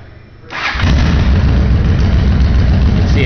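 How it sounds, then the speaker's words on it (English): A 2007 Honda VT750 Shadow motorcycle with Cobra exhaust pipes starts up close by, cranking briefly before catching into a loud, deep, rumbling idle that holds steady. "Go ahead and start it up so you can hear the Cobra pipes on this bike."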